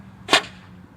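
A pneumatic cannon fires a single sharp, loud crack at 50 PSI, a brief burst that fades quickly against a quiet background.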